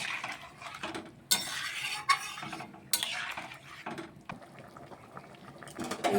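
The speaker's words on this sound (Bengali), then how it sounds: "দেখুন জলটা ফুটে গেছে রসটা ভালো করে ফুটে গেছে" Kohlrabi curry broth boils in a pot on the stove, a soft continuous bubbling under sharp metallic clinks of a spoon stirring against the pot, with several louder scrapes along the way.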